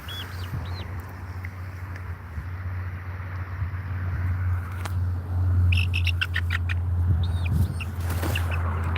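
Chickens cluck and call in short bursts over a steady low hum, mostly near, with a quick cluster of clucks late on.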